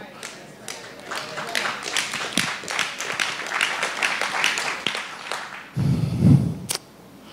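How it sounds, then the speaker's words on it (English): A church congregation claps during a sermon, with scattered, uneven handclaps through the middle and a brief louder rumble near the end, moderately close and with no clear talk over it. "Thank you for clapping, Brandy."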